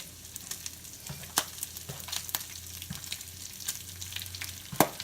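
Sausage frying in hot grease in a pan for biscuits and gravy, a soft continuous sizzle with occasional scrapes and clicks of a utensil stirring, close and quiet, no talk.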